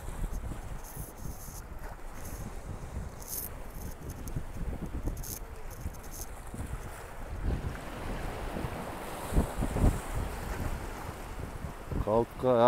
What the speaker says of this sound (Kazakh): Жел күшейіп келе жатыр.